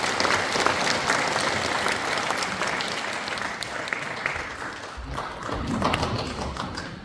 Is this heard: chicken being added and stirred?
no